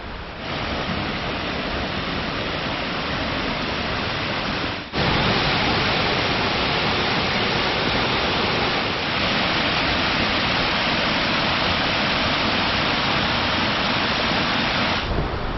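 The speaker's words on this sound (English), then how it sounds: "That's a pretty cool waterfall." Steady, loud roar of a waterfall at Cuyahoga Valley National Park in Ohio, a continuous broadband rush of falling water heard close up throughout with no talking.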